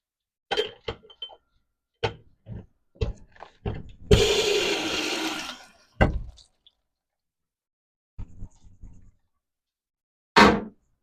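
Glass pint jars being rinsed at a sink, with a burst of running water a second or so long among sharp clinks and knocks of glass set down and handled, close and intermittent with quiet gaps.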